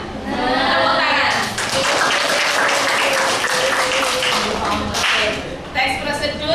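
A classroom of Grade 7 students clapping their hands together, sustained loud applause with a voice rising over it near the end.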